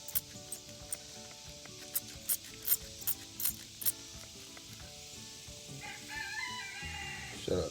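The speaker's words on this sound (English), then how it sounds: "Shut up, chicken." A rooster crows and clucks in a farmyard on a homestead, its sharp calls repeating in short bursts at close range, followed by a rougher, louder stretch of noise near the end.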